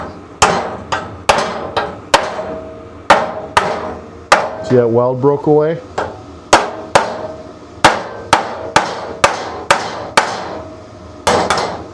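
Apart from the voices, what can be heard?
hammer tapping metal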